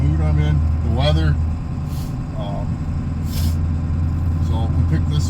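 A vintage diesel truck with a 355 gear ratio hauls a trailer through a small town, its steady low engine drone close and loud, with a brief air-brake hiss partway through and someone talking over it.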